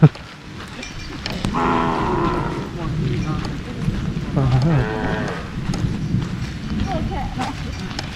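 Cattle moo several times nearby, long low lowing calls over rustling and background chatter of people.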